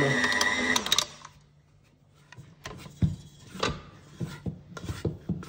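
A stand mixer kneads brioche dough, its motor whirring briefly before stopping, followed by scattered scraping, tapping and knocks against the bowl, close by.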